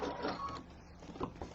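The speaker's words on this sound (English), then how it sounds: "I'm just going to sew over that and make sure I got inside that line" A sewing machine runs briefly over a quilt seam, giving a soft, close mechanical whir that fades and then picks up again, with no voices.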